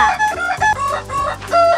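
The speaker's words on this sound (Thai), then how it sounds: "ใช่ถ้าเราแตะไปที่ไก่เขาก็จะเอกีเอก่" A cartoon chicken in a Toca Boca video game clucks and squawks in quick bursts when tapped, loud and close, with several choppy calls over about two seconds and no speech.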